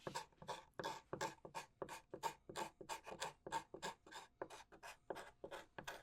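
A hand tool rasps steadily over a carved wooden spoon during smoothing, about fifteen even strokes in quick succession, close and fairly quiet, with no talk.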